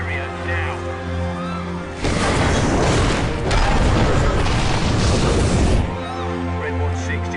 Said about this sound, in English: Alpha, the device has detonated.